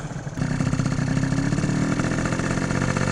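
A Yamaha Zuma scooter engine runs close by in the cold, kicking in after a brief quiet start and then holding a steady, throbbing idle with a slight lift in revs partway through.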